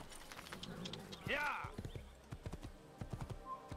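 Horse hooves clip-clop in the Assassin's Creed video game, a quick rhythmic trotting with a brief whinny, under someone talking in German.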